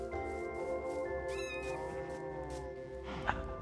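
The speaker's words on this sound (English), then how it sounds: "How many cats are they gonna spawn, man?" Several Minecraft cats meow in the game, with drawn-out tonal cries that rise and fall and overlap one another. The mewing stays close and clear over a low, steady background hum, and a brief sharp click comes near the end.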